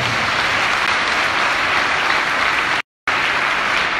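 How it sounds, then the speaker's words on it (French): A large crowd at a conference in Ouagadougou gives dense, loud, sustained applause that drops out abruptly for a moment before continuing at full strength. "pour qui je vous demande également d'applaudir"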